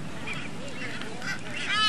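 Blue-footed boobies calling at a seabird nesting site, with honking and thin whistling calls at moderate distance that grow louder and more layered toward the end.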